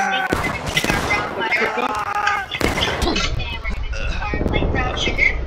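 Musket gunfire in the Civil War video game War of Rights, with sharp, loud, irregular shots and crackling volleys, some close and some distant, under and between voices talking.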